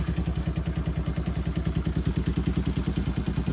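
A 1995 Honda Fourtrax 200 four-wheeler engine idles on a warm day, a steady, rapid single-cylinder putter of even thumps heard up close without any talk.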